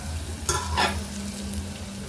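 Ginger garlic paste cooking in a pan for an Andhra-style mutton curry: a soft low sizzle broken by two quick, close spoon-scraping stirs about half a second apart.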